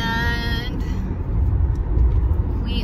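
Interior of a car on a drive toward Ohio: a steady low road rumble and engine drone fill the cabin, getting a bit louder in the second half, after a brief high-pitched tone at the start.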